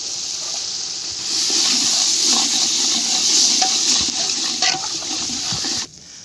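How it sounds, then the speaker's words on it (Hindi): Water gushes steadily into a large cooking pot for village-style pulao, a loud continuous splashing pour that runs for several seconds then stops abruptly. "तो अभी इसमें हम पानी डाल रहे हैं।"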